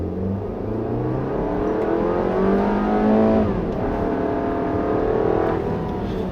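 A 2016 Audi Q3 accelerates hard at full throttle, its engine note climbing steadily in pitch and loudness over several seconds, heard from inside without talk.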